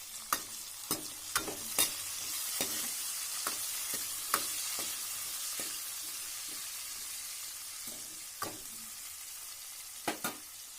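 Tomatoes frying in a pan for bitter gourd curry, a low steady sizzle with sharp, evenly spaced clicks of a spoon against the pan.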